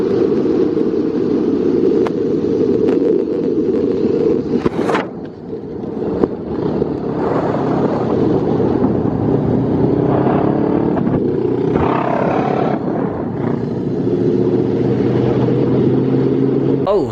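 Loud motorcycles, including a Honda CBR500R with its muffler removed, roar close by with a steady heavy drone and shifting revs, mixed with wind buffeting on the microphone.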